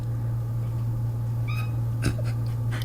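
A short, faint meow rises over a steady low hum, followed by a few soft clicks and rustles.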